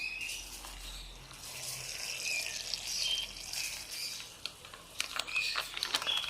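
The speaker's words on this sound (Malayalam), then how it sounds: "ഈ കസ്റ്റാർഡ് പൗഡറിലേക്ക് എടുത്ത് വെച്ച പാലിൽ കുറച്ച് ഒഴിച്ച് കൊടുക്കും." Milk poured into custard powder while making a bread pudding dessert: a soft, steady liquid trickle and patter, close by, that grows more uneven toward the end.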